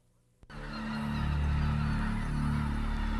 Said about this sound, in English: Thousands of speckle-bellied geese and other feathered sidekicks spend the winter on the Hines Ranch